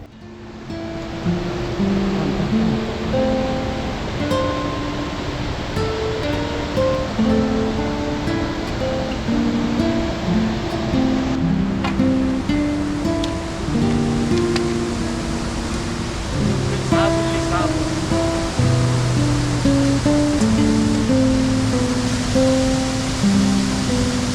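A mountain waterfall on the Sandakphu trek gives a continuous loud rushing roar of falling water, with music playing over it.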